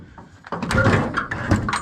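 Cab door on an MTZ 82 tractor swinging shut, a couple of close metallic clunks and rattles in quick succession, loud and alone.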